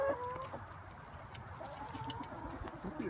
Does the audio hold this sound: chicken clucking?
yes